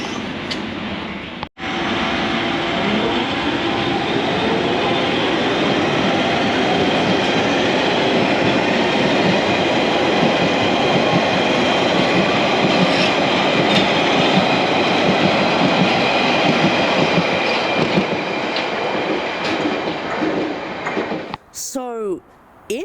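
A London Underground train on the Epping branch rumbles loud and steady with rhythmic wheel clatter, a brief drop near the start and a short squeal as it ends.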